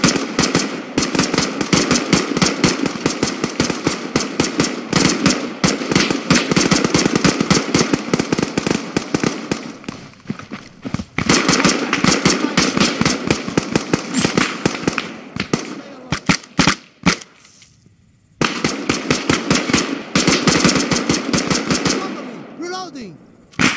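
Dense, sustained automatic gunfire crackles through an Arma 3 AI battle on Malden, loud bursts from several weapons with short pauses, continuing for most of the stretch.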